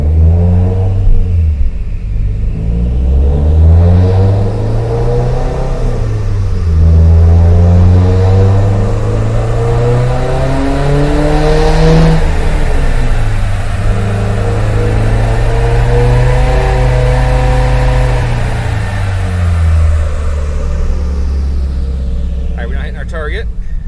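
A Subaru STi race car engine fitted with eight fuel injectors and an EFR8474 turbo, held on its pit lane limiter, gives a loud, steady, buzzing drone with slight rises and dips in pitch that run unbroken throughout.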